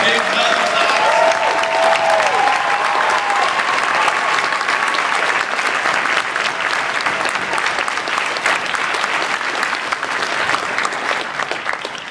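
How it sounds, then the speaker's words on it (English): A convention crowd at an anime event breaks into a big round of applause, dense steady clapping that stays loud and continuous for the whole stretch. Cheering voices mix in near the start. "So let's give them a big round of applause."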